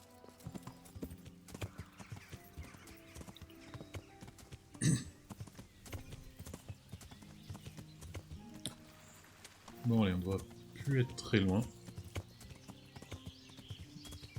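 Soft rhythmic hoofbeats of a horse clip-clopping in the game Kingdom Come: Deliverance, with a couple of brief horse snorts and someone talking quietly over them.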